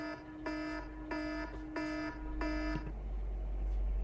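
Alarm tone from a phone app running on a virtual device: four evenly spaced bursts of a bright, harmonic electronic beep, fairly close and clear over a low background hum.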